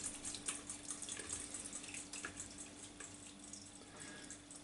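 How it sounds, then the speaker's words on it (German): Cooking liquid poured off a pot of simmered ajvar vegetables, a steady trickling, splashing stream into a sink, moderately near and unbroken, without talking. "Und jetzt ganz wichtig, dass ich das Ganze abgieße."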